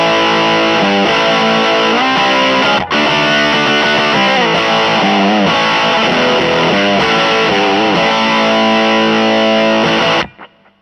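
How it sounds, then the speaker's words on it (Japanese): Electric guitar played through a RAT distortion pedal, thick and heavily saturated, a steady run of sustained distorted chords and riffs with a brief break near the start, then an abrupt cutoff at the end; no voices. "じゃあ本物の音、本物っていうかラットの音いきますね。"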